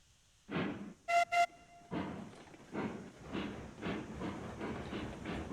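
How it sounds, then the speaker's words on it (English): Steam locomotive in the Railroads Online video game moving off with rhythmic chuffing bursts that repeat steadily, broken early by two short sharp whistle blasts, heard up close with no voices. "Let's move this train up."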